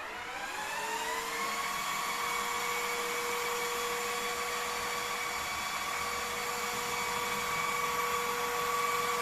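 A vacuum cleaner spins up and runs steadily while sucking up dirt, with a whining motor tone that rises in the first second and then holds as a constant close drone. No one speaks.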